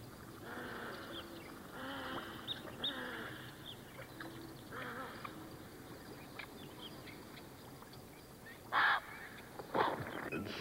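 Flocks of migratory birds on a Great Rift Valley lake, a continuous chorus of honking and calling with a few louder, nearer honks breaking through toward the end.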